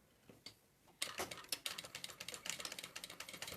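A sewing machine with a presser foot stitches bias binding along fabric edges, starting with a few isolated clicks, then running in a fast, even mechanical chatter of ticking stitches close to the mic.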